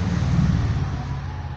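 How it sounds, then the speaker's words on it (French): Steady loud roar of cars passing on a busy road close by, a continuous rumbling wash of traffic noise. "Excusez-moi pour le bruit des voitures qui passent."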